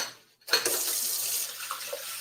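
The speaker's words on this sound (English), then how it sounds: "Give this a little rinse, please." Tap water runs into a sink as drinking glasses are rinsed, with a steady close splashing stream starting after a brief silence.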